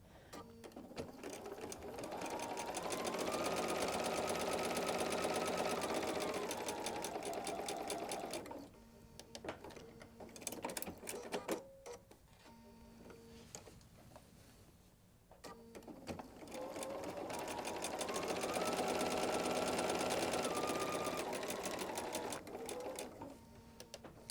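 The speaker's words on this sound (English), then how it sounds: "And once again, we sew on our drawn lines." A sewing machine stitching quilt fabric along drawn diagonal lines for flying geese units, running in two steady sustained bursts with a quieter pause of handling between them, close and loud.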